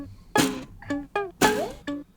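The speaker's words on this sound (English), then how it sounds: "Next, I added some canjo and my makeshift snare." A plucky canjo twangs alongside a makeshift snare drum, making sharp, bright hits with short resonant decays. About five strikes come in a loose rhythm, close and fairly loud, with no talking.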